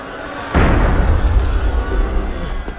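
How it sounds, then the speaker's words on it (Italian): A cannon shot in Assassin's Creed Unity bursts in suddenly as a loud deep boom, then rolls on as a long rumbling roar that slowly fades, with no speech over it. "Un colpo di cannone!"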